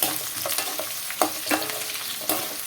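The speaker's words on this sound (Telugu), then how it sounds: "ఉల్లిపాయలు అయితే ఫ్రై అవ్వాలి మనకి" Onions frying in a pan for spicy gongura chicken fry, a steady hiss of sizzling broken by a few scraping stirs of a spatula, close and alone with no voices.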